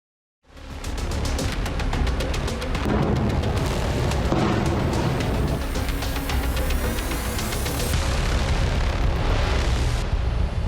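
Rocket and missile attack explosions strike Israeli cities in the Israel–Hezbollah conflict, a dense, continuous barrage of loud booms and crackling bursts rolling one into another without pause, with no voices.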